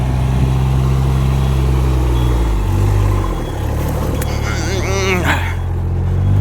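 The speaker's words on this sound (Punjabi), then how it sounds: "ਸਾਹਮਣੇ ਟਰੈਕਟਰ ਆ ਜੀ ਆਹ ਹੁਣ ਚੜਾਉਣਗੇ" A tractor engine rumbles steadily at low revs while a paddy transplanter is loaded onto a trolley, loud and close, with a brief rising whine near the end and some voices in the background.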